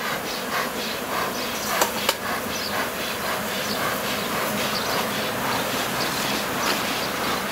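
Honey bees in a colony inside a tree trunk buzz in a continuous, even drone close by, with a couple of sharp knocks early on and no talking.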